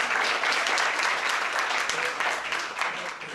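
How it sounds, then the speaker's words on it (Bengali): Audience applause at a discussion meeting marking poet Farrukh Ahmad's 108th birth anniversary: dense, steady clapping from a large crowd, loud and sustained throughout, tapering slightly toward the end. "এমন একটা হাততালি দাও।"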